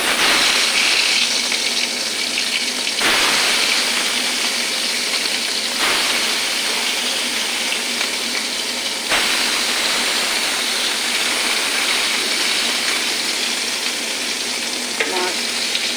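Pabda fish frying in hot oil in a kadai, a loud, dense, rushing sizzle that runs steadily throughout, close up, with a few brief dips, and no one speaking.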